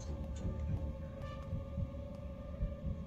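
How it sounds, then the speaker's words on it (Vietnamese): A low, throbbing heartbeat pulses in a Roblox obby game, steady and muffled under a constant droning hum. "Mọi người nghe tiếng tim đập đúng không?"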